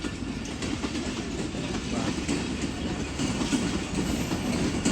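A passenger train in Pakistan runs steadily along the rails, its wheels keeping up a continuous rumbling clatter with faint rhythmic clicks, heard from inside or close by throughout without a break.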